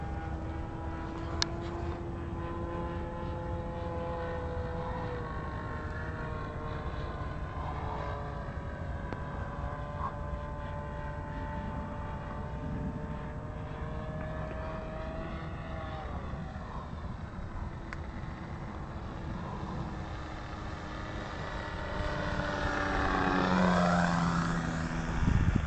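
A P-51 Mustang makes a high-speed fly-by, its piston engine droning steadily at a distance, then swelling louder and sweeping down in pitch as it roars past near the end.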